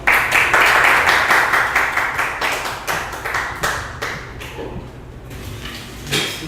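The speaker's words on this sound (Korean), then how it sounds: "박수 한번 보내주십시오." Audience at a small-church vision gathering in Busan applauding to welcome a pastor, loud and close with distinct individual claps that gradually thin out and fade.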